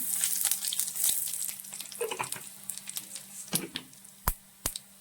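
Fennel seeds dropped into hot oil crackle and sizzle in a pan, a soft continuous hiss broken by sharp pops and a few louder spoon clicks toward the end.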